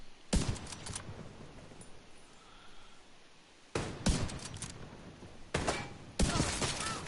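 Pistol shots fired at a boss in The Division 2, a few loud, abrupt reports with echoing tails, spaced several seconds apart over a low ambient hum.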